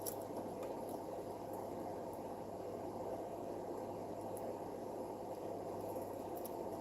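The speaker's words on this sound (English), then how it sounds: "if you hear the white noise in the background, that's coming from my fan" An electric fan gives off a steady, even hiss with a low constant hum underneath, unchanging throughout and sitting quietly in the background of a room with no voices.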